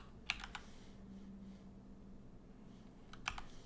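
Keys tap on a computer keyboard in two short, faint bursts of quick clicks, one at the start and one near the end, with quiet room noise between.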